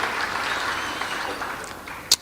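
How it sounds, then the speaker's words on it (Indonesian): Congregation at a church service applauding for Jesus, a dense wash of many hands clapping at moderate distance, holding steady before a single sharp knock near the end. "Kasih tepuk tangan yang meriah untuk Tuhan Yesus."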